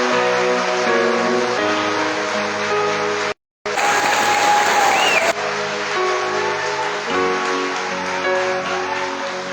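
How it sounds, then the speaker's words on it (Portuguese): An audience applauding for a gospel singer at a church service, with dense sustained clapping throughout and a brief dropout midway, followed by a louder, brighter burst. "Aplaude com força."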